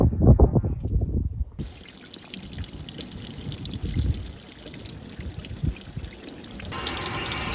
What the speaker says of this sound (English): So now I'm back flushing the radiator